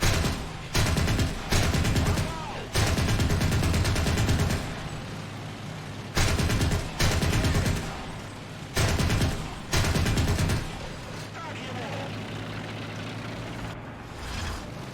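Tank cannon fire in War Thunder, loud booming blasts in irregular bursts over a steady engine rumble, with sustained rattling barrages between short pauses.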